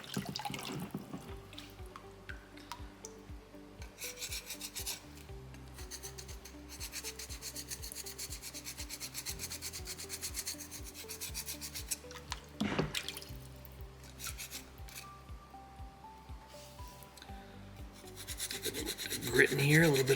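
A soapstone owl carving being filed and rasped, steady scraping strokes running through the whole stretch over a constant tonal background, growing louder near the end, with no talk.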